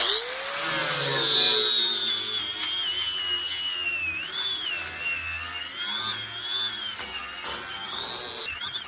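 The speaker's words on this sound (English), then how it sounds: "with the sanding wheel, we're just going to clean the front of this up" A high-pitched whining grind from a sanding wheel on a steel 55-gallon barrel runs continuously and loud, its pitch wavering slightly as pressure changes.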